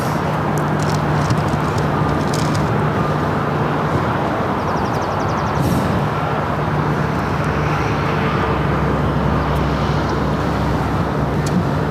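Air Premia Boeing Dreamliner taking off from runway 24 left at LAX, a continuous broad jet roar heard from a distance, steady and unbroken throughout.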